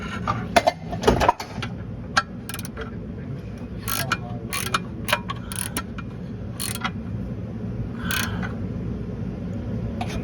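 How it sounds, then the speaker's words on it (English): A crank mechanism is turned in short bursts of clicking, ratcheting metal over a steady low mechanical hum, with a few louder knocks near the start. "you're good to give her another crank"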